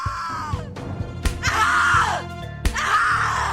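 A woman in the horror video game The Cat Lady screams in long, loud, anguished wails, two drawn-out cries broken by sharp thuds and groans.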